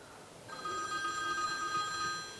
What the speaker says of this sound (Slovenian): Imamo jedan telefonski poziv.